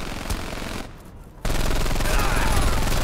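Sustained automatic gunfire in the video game Brothers in Arms 3, loud and dense, broken by a short near-silent gap before the firing resumes even heavier.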